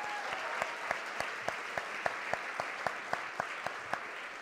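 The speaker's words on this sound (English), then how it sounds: "Let's give them one more round of applause." An audience applauds the finalists at a founders' competition finale: steady, even clapping from a crowd with a regular beat of sharper claps standing out near the front throughout.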